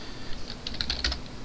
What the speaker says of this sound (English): don't mind this, I just hit the keyboard.